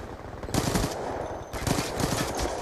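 Rapid gunfire from the video game Black Ops 2 comes in two loud bursts of automatic shots, with a brief lull between them.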